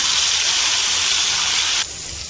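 Kerala-style fish pollichathu with ginger-garlic paste poured over cooks in a hot oiled pan, giving a loud steady sizzling hiss that drops to a softer level near the end.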